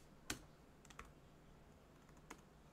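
Keystrokes on a computer keyboard during a committee meeting: a few sparse, sharp clicks with gaps between them, fairly quiet over a low steady room hum.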